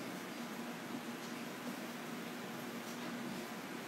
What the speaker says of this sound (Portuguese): Deixa eu mudar só um pouquinho aqui a direção desse ventilador para não atrapalhar muito no som aqui